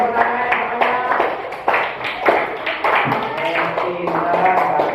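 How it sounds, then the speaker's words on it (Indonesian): Classroom of young students clapping for a student group, a loose patter of many small hands with irregular rhythm, close by, mixed with children's voices chattering. "tepuk tangan semuanya"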